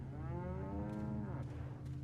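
A cow moos in the video game Resident Evil 4, one long drawn-out low moo that swells and then fades, fairly faint under a steady low background hum, with no talking.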